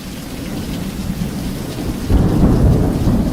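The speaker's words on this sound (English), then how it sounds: "it's pissing down with rain now, guys. That's not, by the way, a sound effect." Heavy rain pours down in a thunderstorm, a dense steady hiss with low thunder rumbling underneath that swells louder partway through, with no voices.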